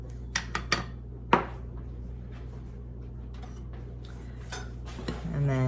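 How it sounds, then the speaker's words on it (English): A homemade seasoning mix with garlic powder is stirred with metal utensils in a dish, giving a few sharp clinks and taps near the start, then quieter scraping and a scrape-rattle near the end, over a steady low hum. "And then just mix it on up."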